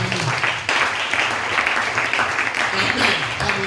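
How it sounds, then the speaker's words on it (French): A congregation at a French-language church service applauds and cheers for the Lord, with dense, continuous clapping and crowd noise. Voices are raised throughout. "on acclame le Seigneur."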